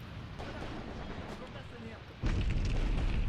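Artillery strike in a World War II combat video game, Soviet guns shelling German attackers: a continuous low rumbling barrage that swells sharply louder partway through, with a voice talking over it.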